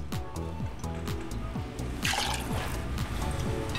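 Polish bison grass vodka is poured for a cocktail, a soft liquid trickle and splash close by, rising briefly midway, under faint background music with no voices.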